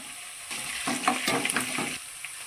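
Onion paste frying in a pan for fish curry makes a moist, bubbling sizzle that swells for about a second and a half, with small spits and pops, before quieting to a low hiss. No speech is heard.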